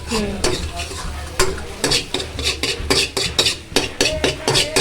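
Egg being stirred in a small pan for a chicken bharta, with rapid scraping strokes and a steady sizzle, close and fairly loud, metal tapping on the pan throughout.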